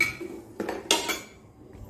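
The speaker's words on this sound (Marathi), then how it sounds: "ह्यात आपण एक प्लेट आणि एक चमचा ठेवू शकतो." A plate and a spoon are set into a cloth bag sewn from old jeans, giving two quick clinking knocks of ceramic and metal close by, with quiet pauses between.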